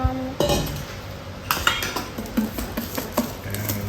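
A spoon mixes flour into thick chocolate crinkle batter in a bowl, giving a series of close clinks and scrapes against the bowl at an irregular rhythm.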